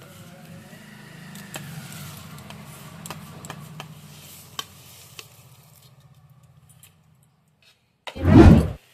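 A kitchen mixer grinder grinds crisp-fried chillies and roasted spices with turmeric powder, roaring loudly for about a second at the very end after a stretch of quiet clinking and light sizzling.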